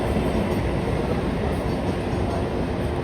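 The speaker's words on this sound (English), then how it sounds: "all the outstation trains are going from here now" Outstation trains at a railway station roar past in a loud, unbroken rumble with a continuous grinding rush of wheels on track.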